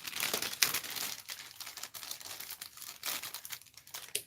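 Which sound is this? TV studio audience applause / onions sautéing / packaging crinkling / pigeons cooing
packaging crinkling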